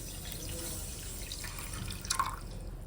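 Water trickles and drips into a pan of sugar over a steady low background hiss, with a brief louder splash near the end.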